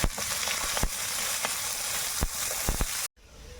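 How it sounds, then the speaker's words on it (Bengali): Chopped onion hitting hot oil already tempered with bay leaf, whole dried chilli and cumin, sizzling loudly and steadily with a few stirring clicks, then cutting off sharply near the end. "এবার ফোড়নে দিব তেজপাতা গোটা শুকনো লঙ্কা আর গোটা জিরে এবার দেব কুচিয়ে রাখা পেঁয়াজ"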